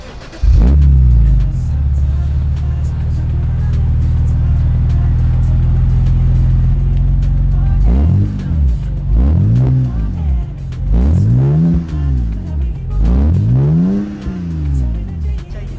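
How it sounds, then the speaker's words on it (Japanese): A BMW Z4 with an aftermarket Remus rear muffler section and a stock center exhaust holds a deep, loud idle-to-rev drone, then fires a series of sharp rising and falling throttle blips, close by. "レムスというマフラーで、欧州車だと結構定番なマフラーになります。"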